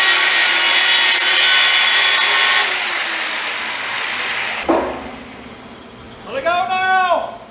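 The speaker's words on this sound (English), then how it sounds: "I'm going to grind a little bit off the end of this one because it ain't real straight." Angle grinder cutting into the end of a steel homemade gooseneck trailer part, a loud continuous abrasive roar for several seconds that drops off, followed by short bursts of grinding contact and a brief voice near the end.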